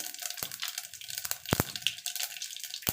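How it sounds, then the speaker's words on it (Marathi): Mustard and cumin seeds hitting hot oil for a tempering, a bright continuous sizzle with sharp pops and crackles bursting through at intervals, close and lively. "तेल गरम झालेलं आहे आता मी मोहरी घालत आहे नंतर जिरं घालत आहे"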